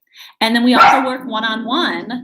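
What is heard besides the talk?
dog barking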